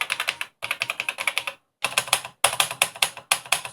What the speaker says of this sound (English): let's go down to the keyboard test, and we can see that happily all the keys work